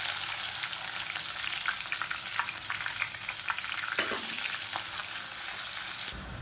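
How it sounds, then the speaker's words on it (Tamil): A large onion and about ten garlic cloves fry in hot oil with spices for a brinjal kulambu, giving a continuous loud sizzle with occasional stirring scrapes, close up and without talk. "இப்போ இது எல்லாமே பொரிய ஆரம்பிக்கவும் மீடியம் சைஸாக ஒரு பெரிய வெங்காயம், ஒரு 10 பல் பூண்டு சேர்த்துக்கலாம்"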